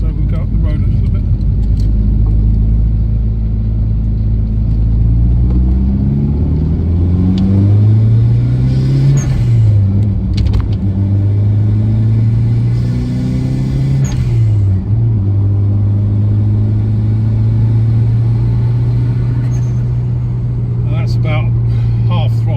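A 1989 Toyota Celica GT-Four ST185 rally car drives along a road, its engine droning loudly up close and rising in pitch through several accelerating gear pulls, with brief dips between shifts.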